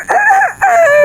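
A person's voice imitates a rooster crowing, two loud close cock-a-doodle-doo calls in quick succession with a short break between them.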